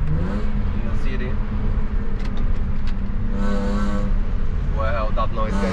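Six-cylinder engine of a BMW 320i E36 coupe with a manual gearbox, revving in city streets, a sustained engine drone with rising rev sweeps, heard from inside the car with people talking over it.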